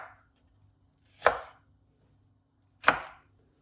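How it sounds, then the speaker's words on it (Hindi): A knife cuts a tomato into four pieces on a board: two separate, crisp chopping strikes about a second and a half apart, close and clear against near silence, with no talk. "अब यहाँ टमाटर है, इसकी भी करेंगे कटिंग। इनके हमने 4 पीस कर लेने हैं इस तरह।"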